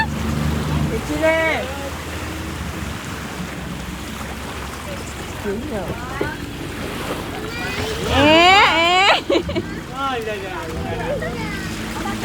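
A houseboat hums steadily across the backwaters at Alappuzha, Kuttanad, with lapping waves and wind, while people chat and call out over the engine.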